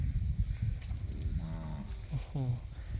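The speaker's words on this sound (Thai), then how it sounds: "เรามาชมวัวงามเพื่อเป็นแรงบันดาลใจกันนะ" Cattle on a farm moo twice, two fairly close, drawn-out calls a second apart over a rumbling outdoor background.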